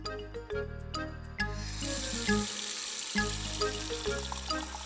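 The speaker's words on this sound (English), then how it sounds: "She filled a bowl with cold water." Cold water from a kitchen tap fills a bowl in an animated cartoon, a soft running splash over light melodic music.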